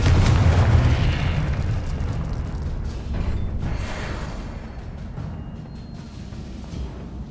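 Confringo explosion spell in the video game Hogwarts Legacy, a loud booming blast with deep rumble that trails off into a long, gradually fading crackling wash, with no talk over it.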